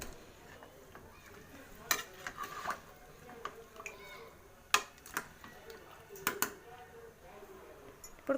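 Chicken curry is stirred in a metal pot after water has gone in, with scattered, sharp spoon clinks and scrapes, some clustered, heard close over a quiet background, and low talk present.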